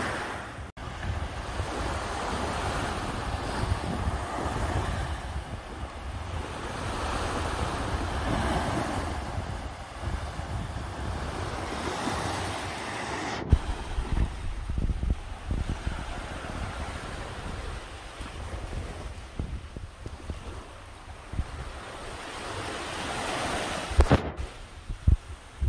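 Surf rolls steadily onto the sandy beach at Chaweng on Samui, Thailand, in front of a hotel, with constant wave wash under gusting wind buffeting the microphone and a few sharp knocks.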